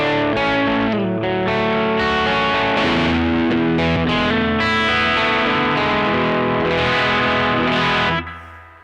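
Gretsch G5622T semi-hollow electric guitar with a Bigsby and Filtertron-style hybrid pickups, played through heavy distortion, rings out in dense, sustained chords and lines for several seconds, loud and close, then cuts off abruptly at the end.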